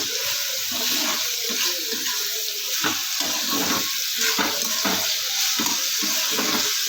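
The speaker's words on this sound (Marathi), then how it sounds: "सगळ्या भाज्या परतायसाठी मी टाकलेल्या आहे गॅसवर कढईमध्ये" Steady hiss of vegetables for pav bhaji frying in a wok, with scraping stirs and occasional clatter, close and continuous with no talking.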